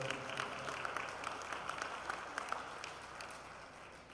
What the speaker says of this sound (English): Let's give them a round of applause and show our appreciation for them.